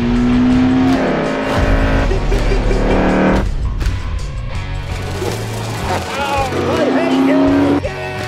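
Cars race in The Grand Tour video game, engines revving loudly and tires squealing through continuous high-speed action, with speech layered over the driving.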